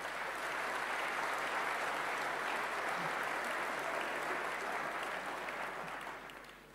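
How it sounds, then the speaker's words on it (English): Audience applause at a conference closing session, steady dense clapping from a crowd at moderate distance, sustained evenly before tapering off at the end. "So a big round of applause to Gwyn for having the bravery to move."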